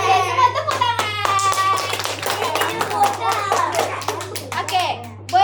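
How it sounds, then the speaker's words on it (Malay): Young children clap their hands in a classroom activity, a series of uneven, scattered claps mixed with children's chattering voices and an adult talking, with a steady low hum underneath. "semua tepuk tangan"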